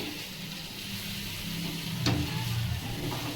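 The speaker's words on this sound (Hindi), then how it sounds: "और सारे पेस्टों को इस तरीके से चलाते हुए भून लेना है" Spice pastes stirred and roasted in a pan for bottle gourd (lauki) sabji: a steady close sizzle and hiss throughout, with a single sharp utensil clink near the middle.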